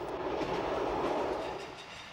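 An X 97050 railcar crosses the Corsican coastal plain at 80 km/h, its steady rolling rumble and wheel noise close and continuous throughout, with no voices.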